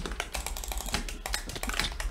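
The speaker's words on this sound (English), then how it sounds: "Now I'm self-conscious about how loud my mouse clicking is." Rapid, loud computer mouse clicking during a video game, a dense run of sharp, close clicks with a steady tapping rhythm throughout.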